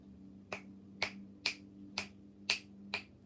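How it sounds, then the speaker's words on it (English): Six crisp finger snaps at an even, slow pace, close and clear over a low steady room hum, with no talking. "I learned how to snap my fingers."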